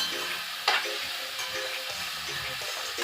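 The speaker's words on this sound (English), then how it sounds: "Want to get this stirred, nice and stirred." Vegetables and saltfish frying in a pot for ackee and saltfish, a spoon stirring with soft scrapes and one sharp knock against the pot over a continuous close sizzle, no voices.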